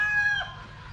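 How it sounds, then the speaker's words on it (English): A chicken crows once at a village house by the sea, a short strained call set against a low steady background rumble. "stupid chicken."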